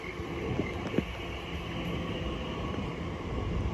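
A Class 345 electric train, unit 345 004, arrives at Shenfield station on the Great Eastern Main Line. It makes a steady, close rolling rumble with a couple of sharp clanks and no voices.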